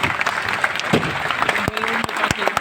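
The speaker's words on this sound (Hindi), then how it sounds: "डागर सर को जबरदस्त ताली होनी चाहिए। यस, अब आप बजा सकते हैं" An audience at a large mega event applauds, a dense, loud, continuous clapping with some sharp individual claps throughout.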